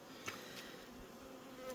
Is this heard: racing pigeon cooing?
no